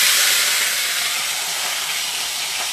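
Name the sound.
fish sizzling as it is put into hot oil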